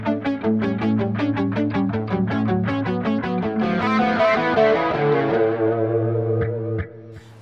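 Electric guitar played through a Spark amp with modulation, delay and reverb effects, a steady run of picked notes with shimmering chorus-like wobble, then a final chord left ringing into a delay tail before fading.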